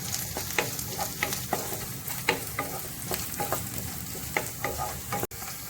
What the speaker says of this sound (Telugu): దీంట్లో సన్నగా కట్ చేసి పెట్టుకున్న బీన్స్ వేసుకుందాం. వీటిని కొద్దిసేపు ఫ్రై చేసుకుందాం.